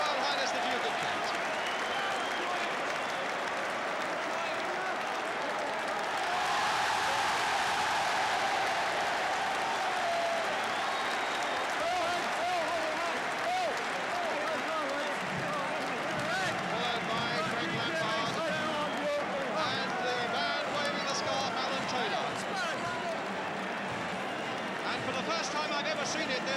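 Huge Wembley crowd at the 1975 FA Cup Final, West Ham United v Fulham, roaring and applauding continuously as fans invade the pitch after the cup presentation, a dense sustained wash of cheers and clapping with a commentator talking over it.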